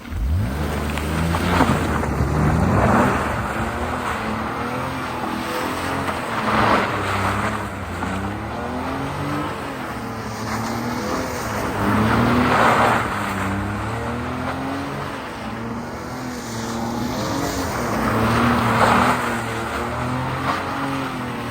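A BMW E46 with modified front-end suspension drives on the road, heard from inside as a steady engine drone with tire and road rumble that swells and eases with gear changes, continuous and moderately loud.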